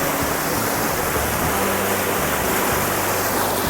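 Waterfall at Kothapaka, a dense continuous roar of falling water, loud and close, with no break or voices.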